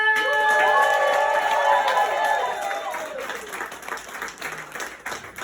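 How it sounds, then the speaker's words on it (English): A crowd applauds and cheers loudly, the clapping tapering off over a few seconds while scattered claps and voices linger. "please give a round of applause"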